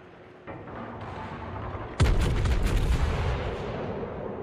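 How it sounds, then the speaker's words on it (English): Secondary guns on a warship in a naval battle video game fire high-explosive shells, a loud thudding volley that kicks in sharply and keeps rumbling and booming densely after a quieter lead-in of distant gunfire. "Shots fired with HE spamming."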